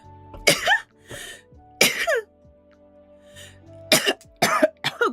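A person coughs repeatedly in a quiet room during a writing and coworking session, with several harsh bursts spread over a few seconds, some coming in quick pairs, loud and close with nothing else heard.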